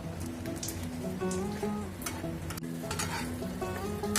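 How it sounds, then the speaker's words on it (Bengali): Spice paste with a pinch of sugar and fenugreek leaves sizzles in oil while it is stirred for a prawn dish, a continuous close crackling fry broken by scattered spatula scrapes and taps. "এবারে আমি মশলাটা তেল ছাড়া পর্যন্ত কষাতে থাকবো"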